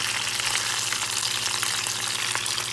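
Turkey wings sizzle and fry steadily in a pan, a dense close hiss with faint crackles running without a break.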